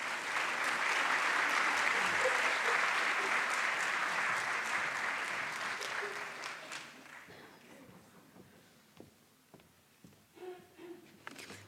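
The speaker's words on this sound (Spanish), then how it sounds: "creo que nos merecemos el primer aplauso para darles la bienvenida" An audience at an international seminar on adolescent mental health and suicide prevention breaks into steady, full applause for several seconds, then it fades into a few scattered claps and room noise.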